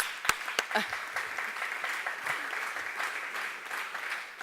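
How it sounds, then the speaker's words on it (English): Applause from attendees at a public design meeting, a few sharp near claps rising into a steady, moderately faint patter of clapping across the room. "I think you need to give yourselves a round of applause"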